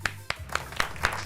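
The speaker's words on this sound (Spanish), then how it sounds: "Un fuerte aplauso para la banda de Leoninos." A band is welcomed on a live stream with a few sparse, evenly spaced hand claps, quiet and close, rather than full crowd applause.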